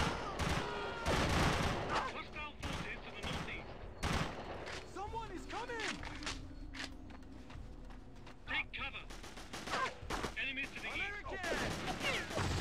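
Gunfire in the video game Delta Force: Black Hawk Down, scattered loud shots and short automatic bursts at varying distances, with players talking over the shooting.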